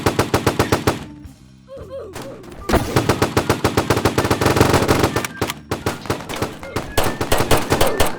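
Rapid bursts of automatic gunfire in a Roblox PUBG-style shooter, loud repeated volleys with a brief lull, then sustained firing; a voice cuts in during the pause.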